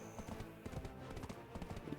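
Horse hooves clip-clop steadily and close while the horse runs through a town in Black Desert Online, with rhythmic thuds over a dense game background.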